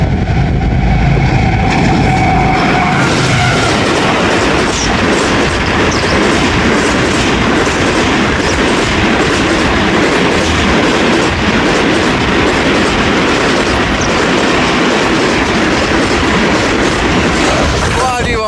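Green Line passenger train rolling past close by on the rails, a loud continuous roar with rhythmic clickety-clack of wheels over joints and a faint wheel squeal, with someone talking over it.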